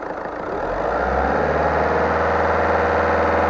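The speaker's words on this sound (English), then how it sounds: "What we can see there is when we rev it, the pressure between the fuel filter and the fuel pump is dropping" A VW Caddy 1.6 TDI diesel engine with low fuel pressure idles, then is revved up and held at a steady, loud, droning pitch close by, with no talking.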